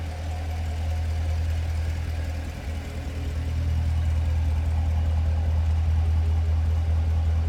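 A 2015 Chevrolet Corvette Stingray Z51 3LT convertible idles through its quad exhaust, giving a deep, steady low rumble that dips briefly and then settles back into an even, close burble.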